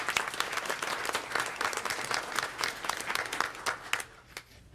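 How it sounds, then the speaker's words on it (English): Audience applause at a school board meeting: a steady round of clapping from a roomful of people, moderately loud, with individual claps standing out before it thins and fades at the end. "So how about one more round of applause for those folks?"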